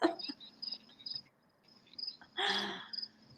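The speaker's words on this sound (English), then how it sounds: "The crickets in the background of Stuart's audio are just so perfect for this moment" Crickets chirp steadily in the background of a quiet indoor setting, a thin high trilling that comes in repeated short pulses, with one louder broadband burst of noise partway through.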